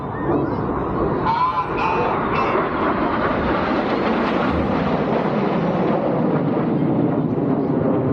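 A pair of RAF Red Arrows jets dives low over the airfield at the Midlands Air Festival, Ragley Hall, 2024. A loud, steady, broad roar fills the whole stretch without a break.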